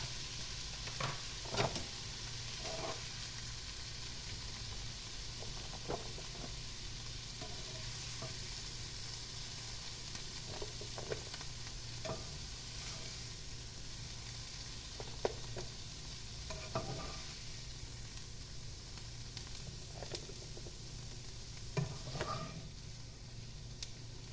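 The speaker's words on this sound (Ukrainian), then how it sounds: "даю ще трошки піджаритися цибулі" Onion frying in a pan alongside mushrooms for a julienne, a steady low sizzle running throughout with occasional light clicks of stirring, moderately quiet and with no voices.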